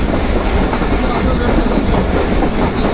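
Shalimar Express passenger train running steadily on rails between Lahore and Karachi, a loud continuous rumble and rattle of wheels and carriages heard from on board.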